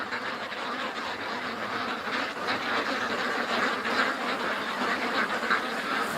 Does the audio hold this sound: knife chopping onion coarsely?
no